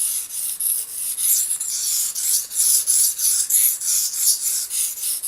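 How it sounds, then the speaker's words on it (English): A knife is sharpened on a whetstone, its blade rasping in steady, repeated strokes close by, each pass a bright scraping hiss with a regular back-and-forth rhythm and no talking. "So you keep on sharpening away"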